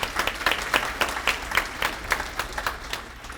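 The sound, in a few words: audience applause at awards celebration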